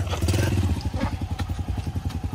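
A motorcycle engine putters close by in a quick, even run of throbbing pulses, loud and steady throughout.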